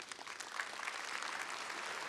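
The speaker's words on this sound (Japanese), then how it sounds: "拍手ありがとうございます" Audience applause at a manifesto presentation event, steady and fairly faint, with clapping from a room of people that runs evenly throughout.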